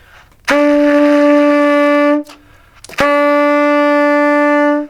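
Two long, steady saxophone notes on E, each held about two seconds with a short pause between, loud and clear.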